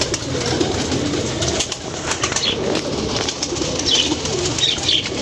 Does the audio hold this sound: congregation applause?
no